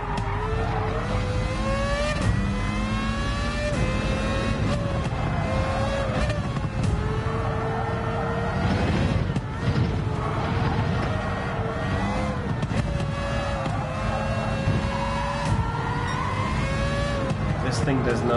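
A car engine revs and drones steadily while driving, pitch climbing and dropping through gear changes with occasional tire squeal, loud and continuous with a voice talking over it.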